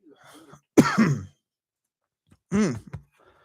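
Two short, rough coughs or throat-clearing bursts, close and fairly loud, separated by a brief quiet gap.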